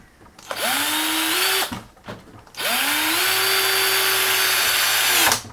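A power drill that had been faulty, whirring up in two bursts while working on a power supply build for an Apple IIe computer: a short run, a brief pause, then a longer steady whine that winds down.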